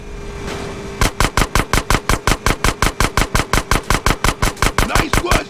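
Rapid automatic gunfire from GTA San Andreas, a steady string of about twenty loud, evenly spaced shots hammering close and alone after a second of quiet background.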